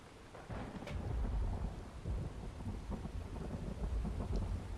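Steady rain with rolling rumbles of thunder in the horror video game Phasmophobia, a dense, continuous wash of downpour under deep, swelling thunder, fairly close and with no talk.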